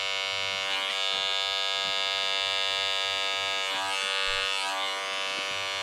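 A Wahl detailer hair clipper fitted with a freshly replaced blade runs steadily with a close, loud electric buzz and a bright whine, changing slightly as the blade is moved around.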